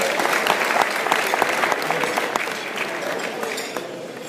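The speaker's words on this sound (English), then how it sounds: "let's give a big round of applause to Ali" A conference audience at a lunch keynote claps warmly for the speaker, a dense burst of applause that gradually thins and softens over a few seconds.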